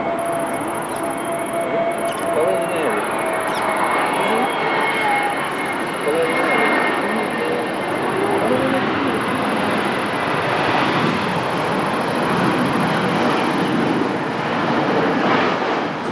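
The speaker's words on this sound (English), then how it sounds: "Sorry, the plane belonged to the Virgin Atlantic." A Virgin Atlantic airliner passes at Lisbon Airport with a broad, steady roar that stays loud the whole time, with people talking nearby.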